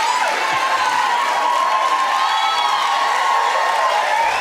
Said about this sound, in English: prompting many audience members to cheer in agreement